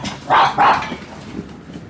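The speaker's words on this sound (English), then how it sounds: "The dogs are reacting to a vehicle driving by." Dogs let out two loud, close barks in quick succession as a vehicle drives by, followed by a few fainter yips against low background noise.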